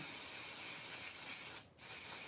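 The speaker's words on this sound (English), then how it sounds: "I think we'll definitely spray the heck out of that" Aerosol spray can hissing steadily over a stencil during holiday tag crafting, a continuous close broadband spray with one brief pause near the end and no talking.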